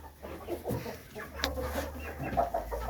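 Backyard chickens cluck and murmur over a scattering of scratch grain treats, with soft irregular clucks, a few sharper calls and rustling at close range, with no talk.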